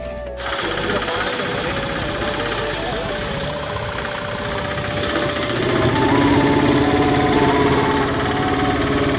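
A tractor engine runs steadily nearby while water containers are filled beside it. The drone is continuous and rough-edged with no pauses, and it grows louder from about six seconds on.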